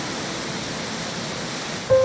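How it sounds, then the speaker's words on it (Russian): Steady broadband roar of rushing water from the Kivach waterfall river, constant and full throughout, with a brief faint tone near the end. "А вот на фото Прокудина-Горского ступень водопада Кивач."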